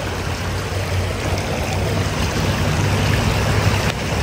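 A river stream rushes steadily and loudly nearby, a continuous broadband wash of flowing water with no voices over it.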